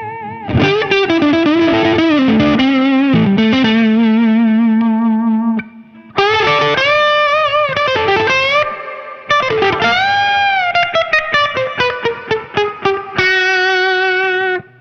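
Electric guitar through a T-Rex Fat Shuga boost and reverb pedal at high gain: thick, distorted riffs and sustained notes ring out loud and alone, with a brief pause midway and reverb tails trailing the chords.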